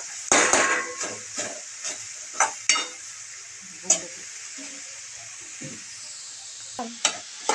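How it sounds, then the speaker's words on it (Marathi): Carrot halwa being stirred with a metal spoon in a small wok, with repeated scraping clinks and knocks at an uneven rhythm over a steady soft sizzle, close and fairly loud. "मी एक मिक्स करते थोडा वेळ लागेल मिक्स व्हायला कारण की माझी कढाई पण छोटी आहे आणि हे चमचेने कालवते"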